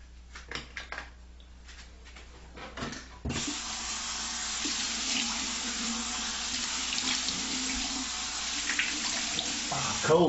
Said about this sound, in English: Cold water is awesome.